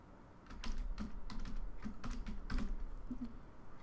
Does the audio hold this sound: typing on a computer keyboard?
yes